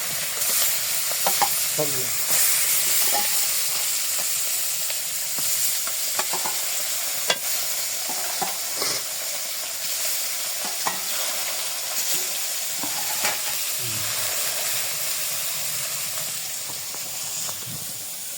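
Fish frying in hot oil crackles with a continuous loud sizzle and hiss, dotted with scattered spits and pops from up close; a voice briefly speaks once.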